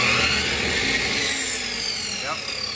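A big power tool briefly whirs on a Bluetti 2400Wh solar generator, a steady loud motor drone that stops abruptly at the end.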